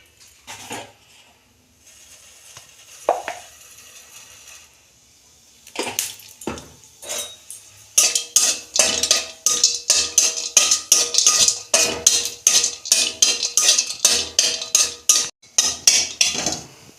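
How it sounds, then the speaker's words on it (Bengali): Vermicelli and cashews frying in ghee in a pan, with quiet scraping at first, then a dense run of loud clinking and stirring strokes against the metal pan, close and without speech. "আমি এইগুলো একটু ভেজে নেবো ঘি দিয়ে, কাজু দিয়ে।"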